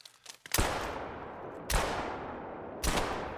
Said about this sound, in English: that was terrible shots with iron sights